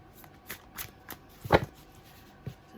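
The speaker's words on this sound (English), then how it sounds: "now I'm going to shuffle them in reverse" Angel Wisdom tarot oracle cards shuffled by hand in a few quick riffling bursts, close and crisp, with one louder flutter in the middle and soft pauses between.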